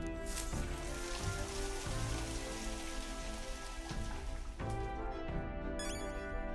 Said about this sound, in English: And take a shower.